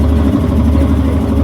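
A motorboat engine on the Ganges at Kashi idles with a steady, low rumbling drone that holds an even level throughout, with no voices.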